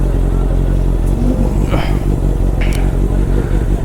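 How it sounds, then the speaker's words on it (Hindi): A Honda CBR650 motorcycle fitted with a loud exhaust idles while it warms up after starting. It gives a steady, close, low engine rumble with a couple of faint higher revs or passing noises over it. "तो गाइस बाइक थोड़ी सी कर दिया स्टार्ट, हल्का सा वार्म अप हो जाए"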